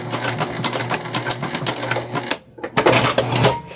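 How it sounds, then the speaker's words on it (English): A sewing machine stitches through webbing for a keyring strap, making a loud, fast, continuous mechanical whir and rattle with a brief pause before it runs again, up close. "This webbing is really easy to sew through."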